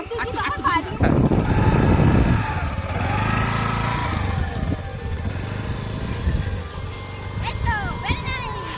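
A scooter's small engine runs as it is ridden for the first time, a steady buzzing drone that swells and rises in pitch with speed, with people talking over it throughout.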